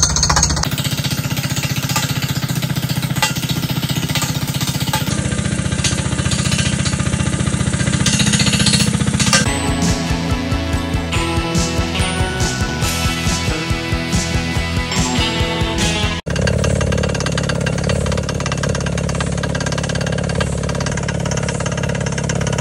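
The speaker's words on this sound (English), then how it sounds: "Some racket it makes, but they're drilling a pilot hole just now" Loud, continuous mechanical hammering and engine roar of a heavy water-well drilling rig boring a pilot hole on a farm, with rapid pounding in the middle stretch and no speech.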